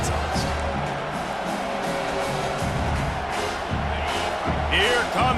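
Roaring home crowd at a college football game as the defense tries to get off the field on third down, a dense, steady wall of cheering and whoops from a packed stadium, swelling slightly near the end.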